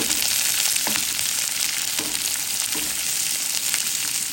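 Chopped onion and sliced green chilies sizzle loudly in hot oil with minced garlic in a pan for tomato chutney, a strong, steady frying hiss close up, with a few soft stirring knocks and no speech.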